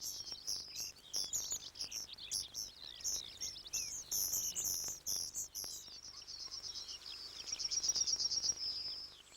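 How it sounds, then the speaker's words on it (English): A yellowhammer sings from a hedgerow beside an open field, its high, thin chirping phrases repeating in quick bursts, then giving way to a continuous trilling passage, fairly close and clear with no talk over it. "The yellowhammer's song is often rendered as a little bit of bread and no cheese."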